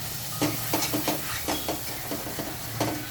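Green chillies fry in a pan with a steady hiss, while a spoon stirs them in a series of soft, irregular scraping strokes close by.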